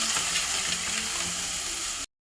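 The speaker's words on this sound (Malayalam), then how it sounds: "ഇനി നമുക്ക് നന്നായിട്ട് ഇളക്കി കൊടുക്കാം." Fish curry masala sizzles steadily in a pan while being stirred, a dense continuous frying hiss heard up close for about two seconds before cutting off abruptly.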